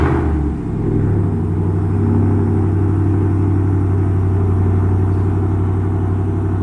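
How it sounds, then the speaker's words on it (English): A 2019 RAM 1500 pickup fitted with a carbon exhaust fires up from cold, a brief starter crank giving way to a loud, steady, deep rumbling idle that holds close and constant throughout. "I'll include the cold start video so you guys get an idea of really how loud the truck is at cold start"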